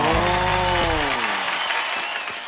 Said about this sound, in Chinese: 哎，大家鼓掌，